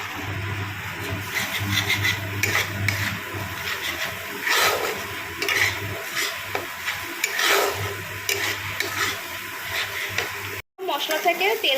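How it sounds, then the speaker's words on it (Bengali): Spices with turmeric powder fry in oil for a masala okra dish, with intermittent scraping stirs and soft sizzling over a steady low background hum, broken by a brief dropout near the end. "মশলা থেকে তেল ছাড়তে আরম্ভ করে দিয়েছে, মশলা কিন্তু আমার ভালোভাবে ভাজা হয়ে গেছে।"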